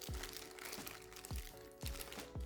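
Thin plastic bag crinkles and crackles around a Rays black chrome wheel center cap for Volk Racing TE37XT wheels, a few sharp handling bursts up close and fairly quiet.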